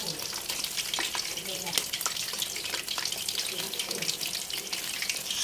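Chicken fries in hot oil with dense, continuous crackling and popping, loud and close, with occasional scraping as pieces are turned.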